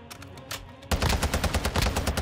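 TAQ V rifle fire in Call of Duty: Modern Warfare 2, beginning with a few separate shots and then a loud, rapid burst of close automatic gunfire.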